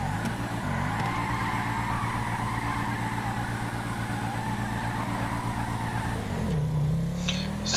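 Police Ford Mustang GT drifting in GTA 5, its engine a loud steady drone with tires skidding and squealing continuously for several seconds, pitch dipping briefly near the end.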